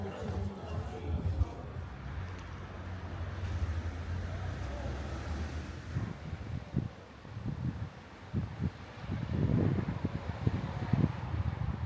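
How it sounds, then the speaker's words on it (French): Steady, icy cold outdoor wind in Marsala rumbles and buffets the microphone throughout, with gusty bursts and faint rustling growing stronger toward the end. "il fait trop froid et il y a un vent glacial"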